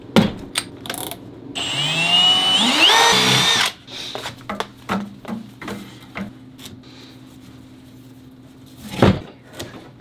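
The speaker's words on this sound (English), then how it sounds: "Now I'll drill 2 holes in the front of the sled so I can attach rope." A power drill whines up to speed for a few seconds as it bores through the wooden front of a homemade sled. It cuts out, followed by scattered clicks and light knocks of handling.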